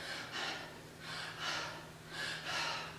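Rapid, anxious panting breaths come in quick paired puffs, three rhythmic bursts of airy in-and-out breathing, soft and close with no talking.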